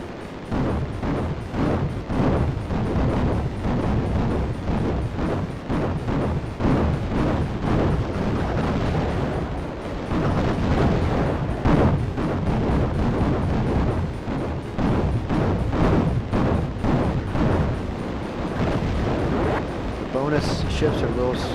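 Continuous booming explosions from the shooter game Raptor: Call of the Shadows, with dense bursts and blasts layered over steady game noise, and someone talking over much of it.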